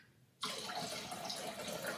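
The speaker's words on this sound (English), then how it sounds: "Water would then be added to cut the punch" Water pours steadily into a bowl of rum punch, a sudden continuous splashing stream that starts after a brief quiet moment and runs on evenly, close and fairly loud.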